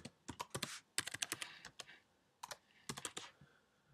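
Quiet keystrokes as a password is typed on a computer keyboard, several quick bursts of clicking taps separated by short pauses, close and alone.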